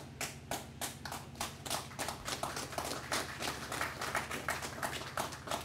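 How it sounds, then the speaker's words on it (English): Faint scattered clapping from an audience at a radio station opening in Orealla, irregular hand claps heard at a distance with a low background hum. "You're clapping?"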